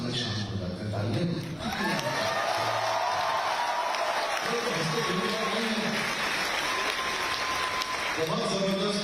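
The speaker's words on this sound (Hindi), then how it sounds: "तालियां" Audience applause at an environmental event with Sadhguru and a chief minister, following a dance performance; steady dense clapping fills the whole stretch, with a voice speaking over it at the start and end.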